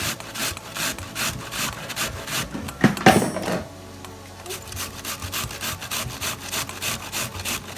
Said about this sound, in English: I'm going to grate my cauliflower